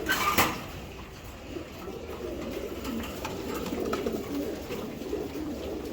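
Soft, rolling coos from a female racing pigeon carry steadily over constant background noise, following one brief sharp knock at the start.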